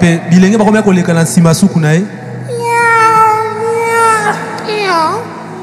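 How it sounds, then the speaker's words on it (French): After a stretch of talking, drawn-out cat meows rise and fall, several wavering cries close and loud, one trailing into another. "Les chats commencent à miauler."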